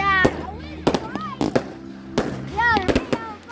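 Fireworks go off in sharp separate bangs, several close by in an irregular rhythm, with people talking and calling out over and between the blasts.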